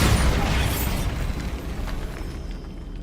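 A booming spell explosion from the video game Hogwarts Legacy erupts loudly at the start, then rumbles and fades into a long crumbling decay.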